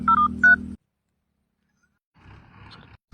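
Touch-tone phone dialing a number: a quick run of several clear DTMF beeps at close range, followed by silence and then a faint ringing or line sound.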